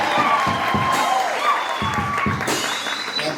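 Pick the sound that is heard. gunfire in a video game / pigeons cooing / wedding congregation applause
wedding congregation applause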